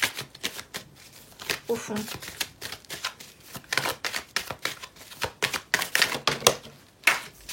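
Tarot cards are shuffled in quick, papery riffling bursts, loud and close, while a voice speaks French intermittently between the flurries.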